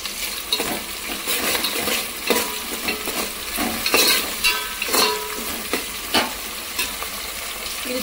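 Curry leaves fry in hot oil in a pan while being stirred, a loud close sizzle broken by repeated scraping strokes of a spoon against the metal.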